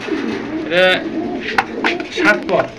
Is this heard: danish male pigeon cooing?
yes